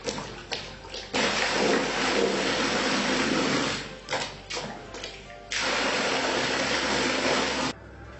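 A homemade plunger water pump worked by hand in a barrel pushes water through a 4-inch pipe, giving loud bursts of gushing, splashing flow broken by short pauses and knocks, with no talk.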